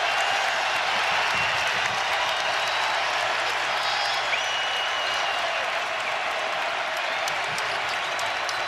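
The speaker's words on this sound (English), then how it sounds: "Because here comes this crowd." Basketball arena crowd at a Nebraska vs Creighton game roars steadily and loudly throughout, a dense wash of cheering and applause with no breaks.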